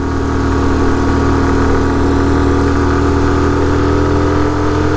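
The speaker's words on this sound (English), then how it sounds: "This is the first time I've ever been out on it where the clutch has been making funny sounds." A Honda motorcycle with a noisy clutch runs steadily up close, its engine holding a loud, even idle-like drone with rich low harmonics for the whole stretch, with no voices over it.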